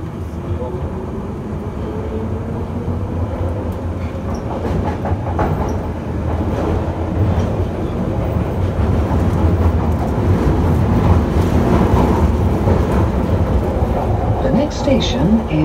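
A London Underground Piccadilly line tube train runs in a tunnel with a loud, steady rumbling roar and rattling that swell slightly as it travels, heard from inside the carriage.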